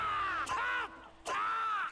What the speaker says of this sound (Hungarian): harci üvöltéseket persze hallhatjátok mellette